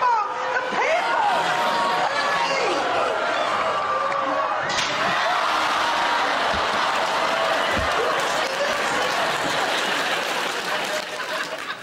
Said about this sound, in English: Some people applauding.